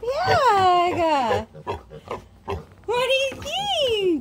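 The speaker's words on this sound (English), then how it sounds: "It's another pig." A pig gives drawn-out oinks and squeals at close range, a long call at the start and another near the end, with a person talking in between.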